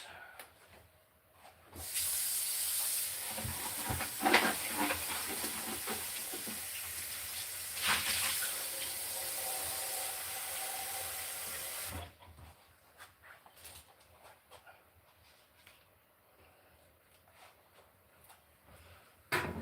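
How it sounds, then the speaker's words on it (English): Water pours from a tap into a bowl for a pet snake, a steady hissing splash running for about ten seconds before cutting off, followed by quieter handling noises. "Let me get Bill's water in there for him."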